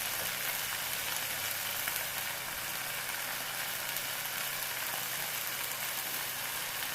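Amaranth greens and pumpkin frying in a pan, a dense, even hiss of sizzling oil that holds steady and close for the whole stretch with no voices.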